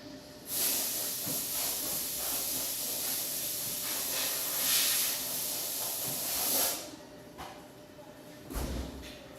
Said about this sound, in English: Sorry, the air compressor starts to kick on.